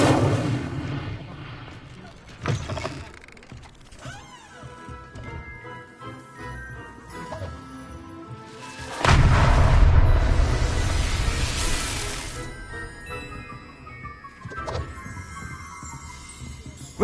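An Incendio fire spell is cast in a Harry Potter video game: a loud, roaring burst of flame erupts and slowly fades, set among softer magical chimes and rumbles.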